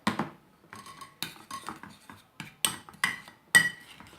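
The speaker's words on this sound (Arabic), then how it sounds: "غادي نخلطوه مزيان." A spoon mixes ground coffee and lemon juice into a homemade face scrub, making a steady run of light metallic clinks and scrapes against the bowl, close up with no talking.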